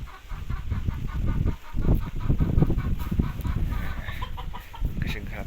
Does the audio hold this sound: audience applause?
no